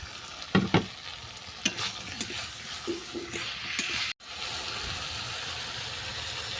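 Grated tomato stirred and frying in a pan with green chillies for a vegetarian mixed-vegetable curry, a steady soft sizzle broken by a few scraping stirs and clinks, close and moderate in level.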